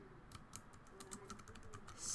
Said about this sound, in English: my typing is terrible when I try to type and talk